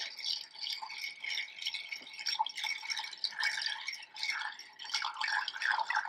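Ice is stirred in a mixing glass for a Sazerac cocktail, making a continuous bright rattle and clinking of cubes against the glass with small irregular pulses, close and alone.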